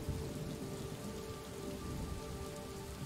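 Thunderstorm rain in the video game Superliminal: a steady, even hiss of rain pattering on a surface with no thunder cracks, fairly quiet and continuous, with no voices.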